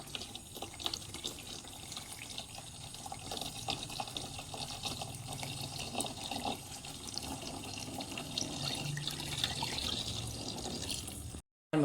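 Homemade fermented probiotic liquid is poured from one container into another, giving a long, steady splashing trickle with faint dribbles that runs for about eleven seconds before stopping abruptly.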